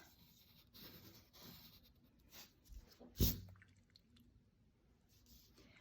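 A pencil draws a line across paper, giving faint, soft scratching strokes in a quiet room, with one brief, sharper tap partway through.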